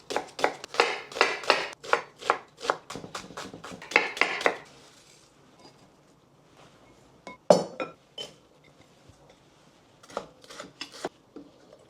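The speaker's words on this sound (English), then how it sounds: "I'm gonna finely chop my onion, peppers, and then mix it with minced meat and seasonings." Onion and peppers being finely chopped for a minced meat pide filling, a rapid run of crisp knife taps on a board, then a pause and a few scattered cuts, nearby and with no talk.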